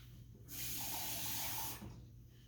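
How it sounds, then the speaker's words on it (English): Water runs from a kitchen tap for just over a second, a steady close hiss that starts and stops abruptly, with no talking over it. "I'm going to get some water."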